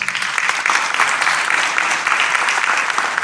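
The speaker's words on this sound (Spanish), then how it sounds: "Un fuerte aplauso al Señor." A church congregation claps loudly and steadily throughout, a dense, continuous applause with no voices breaking through.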